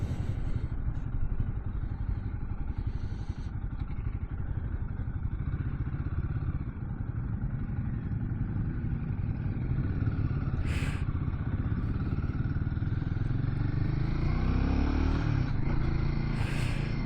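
A Royal Enfield Guerrilla 450 motorcycle engine thrums steadily while riding, a low continuous drone with wind noise and a few brief clatters, heard alone without talk.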